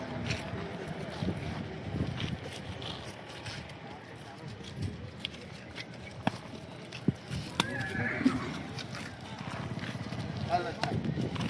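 Horses at a busy outdoor horse market in Yeola, Nashik, with a neigh rising briefly among clopping hooves, wind and crowd noise while people talk nearby.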